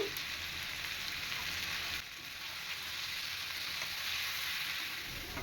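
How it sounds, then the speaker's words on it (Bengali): Hog plums sautéing in a pan with salt and turmeric for pickle, giving a continuous, even sizzle like steady rain, close and uninterrupted throughout. "আমড়াগুলি ভালো মতো কষিয়ে নিব"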